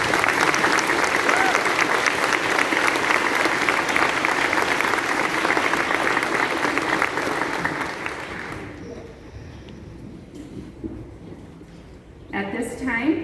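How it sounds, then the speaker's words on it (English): Dense, sustained applause from a crowd at a 2021 high school graduation ceremony in Ogilvie, Minnesota, loud and steady for about nine seconds, then thinning to scattered claps before a brief fresh burst near the end. "Please give them a round of applause."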